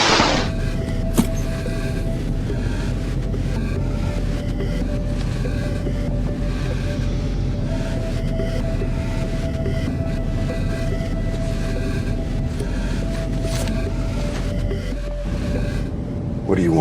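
A Northwest airliner's engines roar in a steady, dense drone during the takeoff roll on runway 16, continuous and loud throughout with a faint tonal whine.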